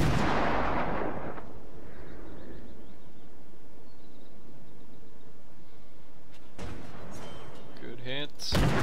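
Warship guns fire in World of Warships, a heavy booming salvo at the start, a sustained rumble, then further gun reports near the end.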